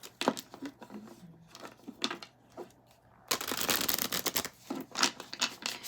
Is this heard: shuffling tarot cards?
yes